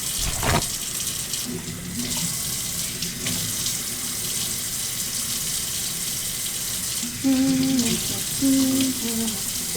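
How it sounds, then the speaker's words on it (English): A kitchen tap runs steadily while something is rinsed under the stream, with water splashing continuously throughout and a few brief tonal squeaks near the end. "So let me rinse this off."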